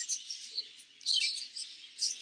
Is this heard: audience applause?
no